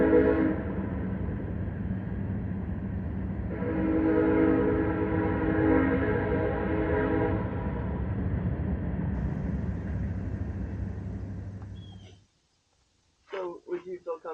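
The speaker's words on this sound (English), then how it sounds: "the trains kept rolling past. Long and loud, their whistles cutting through the dark" Trains roll past at night, a long sustained horn blast droning loud and steady for several seconds before cutting off abruptly, followed by brief scattered noises.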